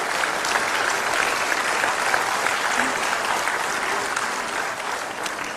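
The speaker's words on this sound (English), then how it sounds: "Big round of applause for our..." Graduation ceremony audience applauding: dense, steady clapping from a large crowd, sustained throughout without pause.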